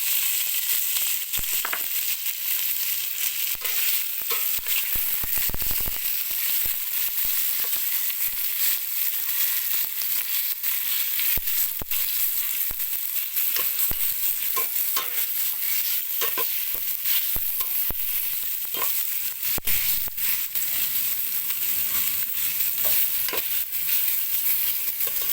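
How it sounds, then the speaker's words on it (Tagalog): Tomato and miso sautéing in a pan for tuna belly sinigang, a steady loud sizzle and crackle with occasional utensil stirring and scraping, continuous and close with no talking. "nagisa na yung miso"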